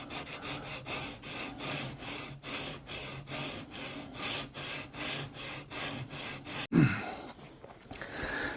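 Cutco chef's knife tip being sharpened on a Shapton whetstone, rhythmic back-and-forth grinding strokes about twice a second, close and clear, then a sharp knock and quieter scraping.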